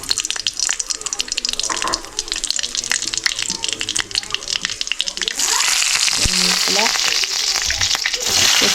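Dried red chillies and mustard seeds fry in hot oil in a pan, a steady loud sizzle and crackle that grows denser and brighter partway through, with no talking.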